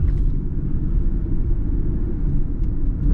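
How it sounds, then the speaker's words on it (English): A 1991 Mitsubishi Diamante 30R-SE engine on a test drive, heard as a steady, loud low rumble with road noise, continuous and even, with no talking. "Very smooth engine"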